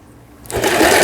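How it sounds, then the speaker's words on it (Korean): A Janome 1306 mechanical sewing machine starts up and runs a three-step zigzag stitch, its whirring motor close and rising quickly to a steady loud buzz. "그 다음에 이 세발뜨기 바느질"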